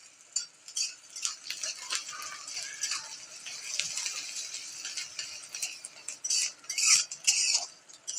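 Something is being fried for kande pohe, and a spoon scrapes and stirs in the pan with irregular metallic clinks and scrapes over a faint sizzle, near and in bursts, with no talking.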